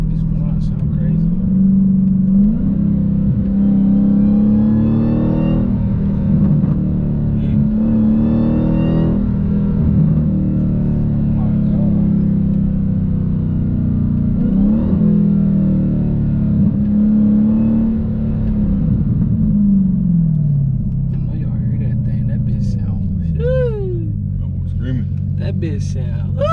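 A Dodge SRT Hellcat engine rumbles and revs hard while street drifting, rising and falling continuously with a deep growl. Someone talks over the engine noise at times.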